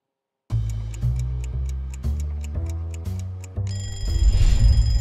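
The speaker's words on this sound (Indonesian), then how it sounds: "Setiap pagi mungkin kita bangun karena dengar suara alarm di HP kita." A phone alarm rings in the morning, a bright electronic melody of repeated chiming notes stepping through a tune, loud and close, with a fuller, busier passage at the end.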